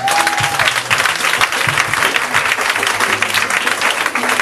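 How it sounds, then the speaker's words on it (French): A church congregation claps loudly and continuously, a dense, even wash of applause from many hands filling the room with a faint voice rising briefly beneath it. "Acclamez le Seigneur."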